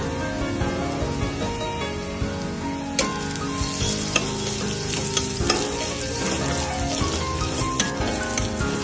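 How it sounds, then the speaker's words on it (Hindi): Garlic sizzles in hot oil in a kadhai, a steady dense crackle with occasional sharper pops and stirring scrapes, close and continuous with no talk. "कढ़ाई में तेल डाल के लहसुन को हल्का ब्राउन कर लें।"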